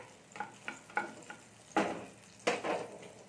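Butter sizzles in a kadai while a spoon stirs it, giving soft rhythmic scrapes that grow into two louder sizzling bursts over a quiet background, with no speech.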